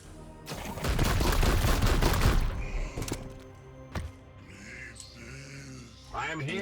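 Rapid automatic gunfire rattles in a dense burst in Warhammer 40K Chaos Gate Daemonhunters, followed by scattered heavy thuds and game sound effects.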